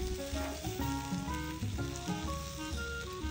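Fish fillet searing skin-side down in an unseasoned camping frying pan on a balcony, a continuous dense crackling sizzle with fine popping, close and steady throughout.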